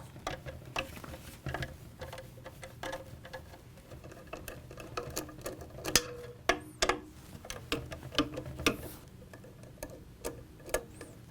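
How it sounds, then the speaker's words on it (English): Six 5/16 hex fasteners being removed from a fan hub, a steady run of small metallic ticks and clicks, close and irregular, with no talk. "we reach in and we can take out the 5/16 hex"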